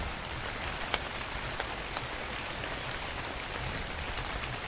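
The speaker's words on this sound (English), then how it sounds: "Man, it's raining." Steady rain falling in the video game ARK: Survival Evolved, a continuous dense hiss with occasional louder drops, constant and even throughout with no talk.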